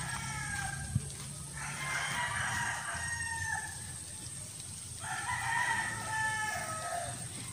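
Neighbor's chicken crowing twice in long drawn-out calls with some clucking, moderately near over a quiet outdoor background.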